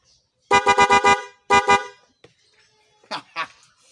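A motorcycle horn on a Yamaha Mio i 125, a loud aftermarket horn fitted with a relay, honks nearby: five quick beeps in a row, then three more, followed by a couple of faint brief sounds.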